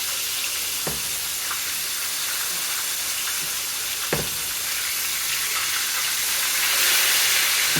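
Pounded pork loin chops sizzle in a hot pan over medium-high heat, a steady broad frying hiss with a few soft clicks and pops throughout, rising slightly near the end, no voices.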